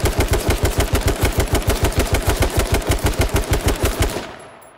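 Sustained automatic gunfire from a rifle in the H1Z1 King of the Kill test server, a rapid, evenly spaced burst of about thirty loud shots that stops abruptly, with no talking.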